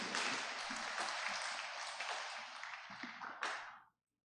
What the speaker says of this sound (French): Nous battons bravo pour nous.